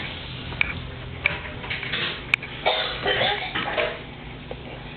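A child coughs a few times in short, sharp bursts during family play at home, with light rustling and faint voices around the brief hacking sounds.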